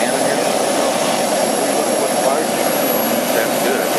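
Turbine engine of an Agusta A119 RC helicopter, a loud steady jet-like roar and hiss with a faint high whine, continuous and close.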